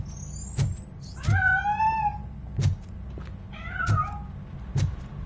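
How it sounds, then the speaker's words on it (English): Cat meowing inside a building in the video game Robocop Rogue City, two drawn-out mid-pitched meows under a steady low background hum, with faint knocks and a short high whine at the start. "That cat must be hiding inside."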